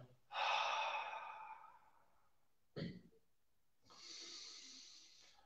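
Slow, deliberate human breathing during a guided relaxation breathing exercise: a long audible breath, a short sharp sniff, then another drawn-out breath, close and quiet with no talking.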